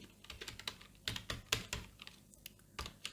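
A computer keyboard is typed on in short irregular bursts of crisp key clicks, close and fairly quiet, with brief pauses between the words being entered.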